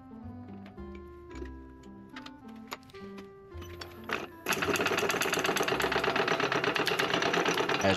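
A drill boring into a soft blackheart sassafras pen blank that runs askew and splits, heard as a light ticking whir that turns into a loud, dense, rattling grind for the last few seconds.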